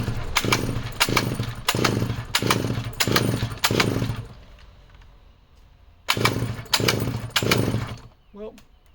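Vintage Jonsereds Raket chainsaw, missing fins and with the choke partly on, being pulled over and failing to start: two bursts of rapid, rhythmic recoil pulls close to the microphone, separated by a quiet pause, with no engine catching.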